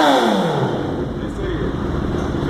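A Honda CB 1000 motorcycle fitted with an aftermarket exhaust revs close by, its pitch sweeping up sharply and then holding a loud, raspy drone.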